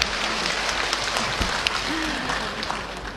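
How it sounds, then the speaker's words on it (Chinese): An audience applauds veteran Yue opera artists at a Shanghai theater concert, a dense, steady wash of clapping filling the hall, loud and sustained. A voice speaks briefly over it. "我们再次用热情的掌声献给老艺术家们"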